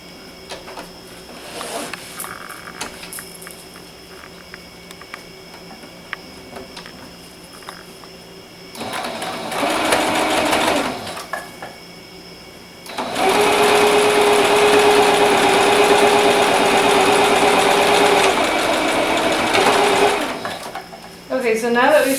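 A sewing machine stitches a designer wet bag in two bursts, a short run and then a longer steady whirring stretch, with a person talking in the quieter gaps between.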